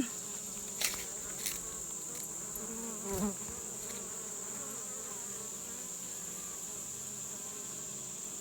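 Honeybees buzz at a hive entrance fitted with a robber screen, a steady, faint insect drone with a few louder passes as single bees fly close by.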